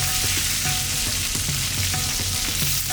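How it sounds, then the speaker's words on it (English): Onions fry steadily in a hot pan, a dense continuous sizzle with small pops and crackles throughout, close and fairly loud. "when you're frying the onions is when you need to put the turmeric in"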